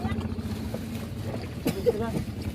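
A boat engine drones steadily on a river trip to Muara Pasir, a low continuous rumble with water and wind noise, while people talk over it.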